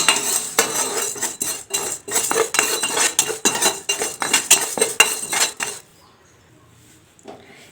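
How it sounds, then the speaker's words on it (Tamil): Urad dal dry roasting in a pan while a metal spoon stirs it, making rapid, rhythmic scraping and clattering strokes up close, then stopping abruptly into near silence for the last couple of seconds. "1/2 கப் அளவுக்கு உளுந்தம் பருப்பு சேர்த்து இதை லைட்டாக வறுத்து எடுத்துக்கலாங்க."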